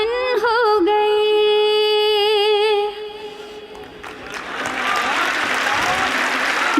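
An audience at a Hindi hasya kavi sammelan poetry recital in Kashi bursts into applause after a held, melodic line from a female performer; the clapping builds and continues steadily to the end.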